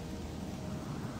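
Steady rain with low rumbling thunder in the German-language Gothic 2 mod Odyssee, a broad continuous wash of noise at constant level with no pauses.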